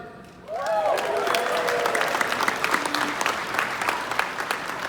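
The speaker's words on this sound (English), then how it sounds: "Big round of applause for production." Audience applause for a real estate company's production team, a dense, steady wash of clapping from a large crowd that swells in after a brief quiet start and holds loud throughout, with faint whoops and cheers mixed in.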